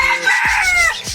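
Chickens at an animal rescue centre, with a near rooster crowing loudly and briefly clucking fowl alongside, without talk.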